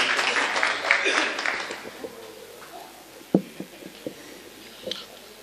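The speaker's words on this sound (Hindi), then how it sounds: "तालियों से इस्तकबाल कीजिए" An audience at a poetry recital (mushaira) claps for roughly two seconds, the applause then fading into quieter room noise broken by a few scattered knocks.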